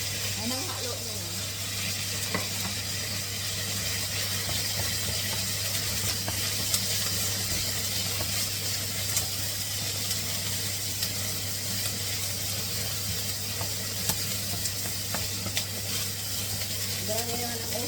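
Garlic and red onion frying in a pan, a dense, steady sizzle with crackles and spits running throughout, loud and close, with a constant low hum beneath.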